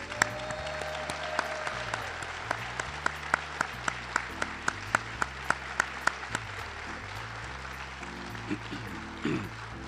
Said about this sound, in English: please stand and let's all give them a round of applause